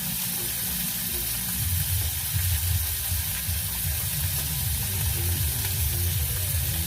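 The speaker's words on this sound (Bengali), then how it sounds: "মাছ ভাজাটা হয়ে গেল" Fish sizzles steadily in hot oil in a home kitchen pan, a close, continuous crackling fry with low bubbling underneath and no talk.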